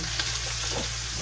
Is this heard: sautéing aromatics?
yes